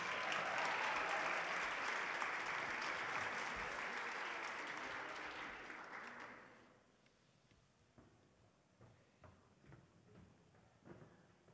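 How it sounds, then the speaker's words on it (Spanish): An audience applauds at a school award ceremony honouring chosen classmates, a dense, loud clapping that holds for about six seconds and then fades to scattered claps and room noise. "un fuerte aplauso a las mejores compañeras que ustedes mismos eligieron en sus cursos"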